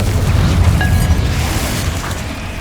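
A Confringo blasting spell explodes in the Hogwarts Legacy video game, a deep, rumbling boom that rolls on loudly for a couple of seconds on its own.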